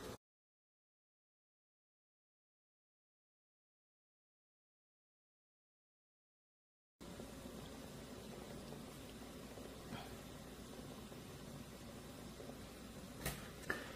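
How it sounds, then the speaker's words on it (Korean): Water boiling under a steamer set up for cabbage dumplings, a steady soft bubbling hiss that begins midway after a silent stretch, with a couple of faint clicks. "찜기를 위에다 올린 뒤에 물이 막 끓지"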